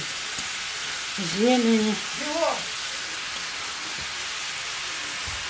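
Squid with carrot, dill and onion frying in butter in a huge pan gives a steady, close, hissing sizzle throughout, with a person briefly speaking over it.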